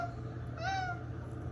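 A person imitates a cat with one short, rising-and-falling meow, quiet and close over a low steady background hum.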